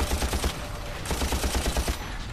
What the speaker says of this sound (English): I shoot you again.